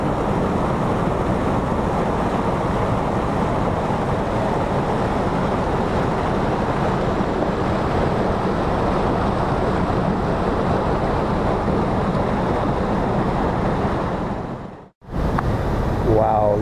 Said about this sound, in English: starting with this waterfall.